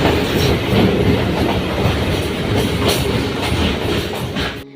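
A train rumbles steadily along the rails, heard from inside the train, with a rhythmic clickety-clack, loud and continuous, before cutting off abruptly at the end.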